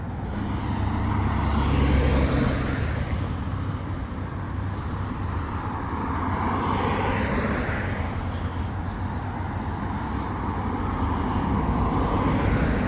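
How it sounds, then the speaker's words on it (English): Saturday-evening road traffic passing near a roundabout by the Washington Highway, a continuous broad roar of vehicles with swells as individual cars and heavier vehicles go by, steady and fairly loud with no voices. "Who'd have thought there'd be all this traffic on a road on a Saturday afternoon, Saturday evening?"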